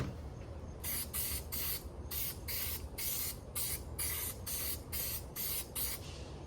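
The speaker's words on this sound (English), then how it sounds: "So I'm going to spray adhesive on this section here" Spray adhesive is applied from an aerosol can inside a Sprinter van during upholstery work, in a series of about ten short, loud hissing bursts with brief gaps, over a low steady background rumble.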